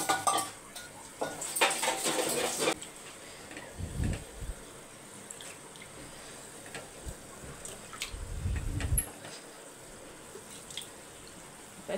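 A ladle scrapes and stirs food in a cooking pot. The metallic scraping and clinking comes in uneven bursts, with a couple of duller thuds, fairly quiet and close, and no talk.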